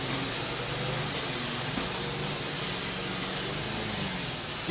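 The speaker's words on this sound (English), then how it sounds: "Let me get my spray and make this thing stand up a little bit." Hair spray misted steadily over a flattop haircut on fine hair, a continuous close, even hiss with no talk, ending in a short soft bump.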